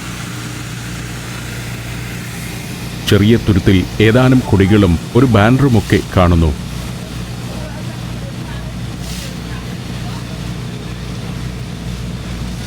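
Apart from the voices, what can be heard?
boat engine as the boat approaches Hulhumale, Maldives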